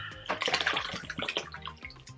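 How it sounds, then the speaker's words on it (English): Bottled water, nearly a whole 1.5 litre bottle, poured over 200 grams of rice in a bowl, a steady close splashing pour that rises and falls in short gushes, with no talk. "I'm actually adding nearly the whole bottle of water in here"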